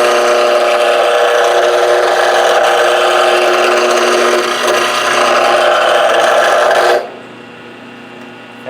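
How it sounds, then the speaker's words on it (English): A chisel held level on the tool rest scrapes a spinning workpiece on a mini wood lathe, giving a loud, steady rasping whir that runs continuously and then cuts off abruptly, leaving a quiet motor hum. "hold the chisel perfectly horizontal like this, one hand up by the tool rest, resting on the tool rest there, the other back on the handle"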